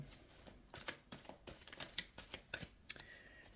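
A Mermaid tarot card deck being shuffled by hand, a quick run of crisp riffling card flicks and soft slaps close to the microphone, steady and alone with no talk.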